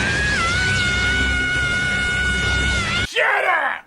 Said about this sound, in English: you still lose in the game with the most annoying screams I've ever heard in a video game.